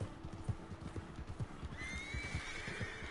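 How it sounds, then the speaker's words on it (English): Wild horses in Red Dead Redemption 2 gallop past with steady hoof clip-clop, then a loud, long whinny rises over the rhythmic hoofbeats near the end. "Wild horses."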